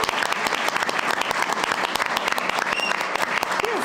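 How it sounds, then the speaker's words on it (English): An audience at a city council meeting claps steadily throughout, giving dense, even applause from a roomful of people with no pauses. "Let's give him a round of applause."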